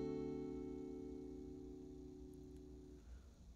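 Guitar rings out a D seventh chord in a beginner 12-bar blues lesson: a single quiet strum with clear sustained tones that slowly fade away, with no voices.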